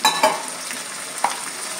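Cumin and green chili paste with a little water frying in a pan for a prawn and young jackfruit dish, a close, steady sizzle broken by a few sharp spoon-stirring scrapes.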